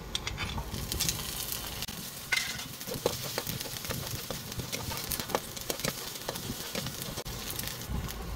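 Onion sizzling as it fries in a pan with garlic already golden, a soft, steady crackle with scattered pops and spits, quiet and close, no voices.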